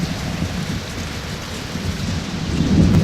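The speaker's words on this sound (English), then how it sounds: "Oh, it's a bad storm." Steady rainfall at a lighthouse in the video game Ether One hisses over a deep rolling rumble of thunder that swells louder toward the end.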